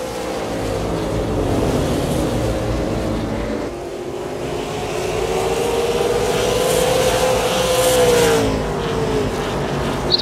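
Stock cars race at Five Flags Speedway in a continuous loud engine drone that dips briefly, then rises and sweeps in pitch as a car passes close by. Other engines rumble underneath.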